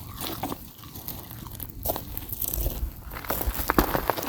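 Close, crisp crunching as someone bites into a burnt hot dog roasted over a campfire, several chewy crunches and mouth noises spread over a few seconds outdoors.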